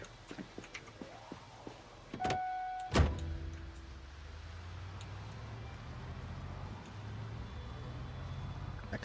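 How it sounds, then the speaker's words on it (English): A truck driving in a zombie apocalypse video game, its engine a low steady rumble after a couple of sharp clicks and a brief mechanical whir, continuing evenly to the end. "Do you guys actually hear my truck?"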